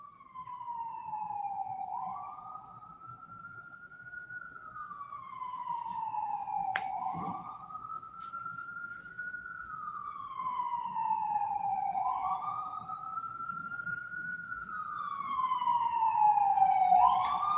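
Ambulance siren wailing in a rising and falling sweep, distant at first and slowly growing louder as it approaches, heard alone with no talk.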